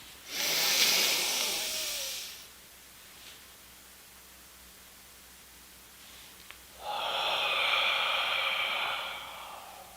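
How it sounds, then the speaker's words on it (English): A person doing box breathing, with a long airy inhale through the mouth and nose, a quiet held pause, then a steady hissing exhale. The breaths are close and clear over faint room hum. "Inhale for 4, hold for 4, exhale for 4, hold for 4."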